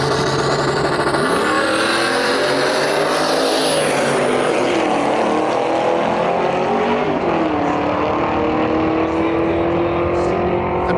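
A turbocharged Chevrolet Suburban and a 2021 sixth-generation Camaro roar down a drag strip, a loud sustained engine drone with rising and falling pitch sweeps as they pass, a distant announcer faintly underneath.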